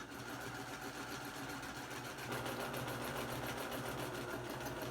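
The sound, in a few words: sewing machine stitching, needle about to break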